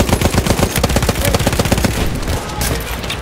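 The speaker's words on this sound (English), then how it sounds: "Cover, cover fire!" Rapid automatic gunfire in a video game rattles out in loud, dense bursts that fade toward a quieter stretch at the end.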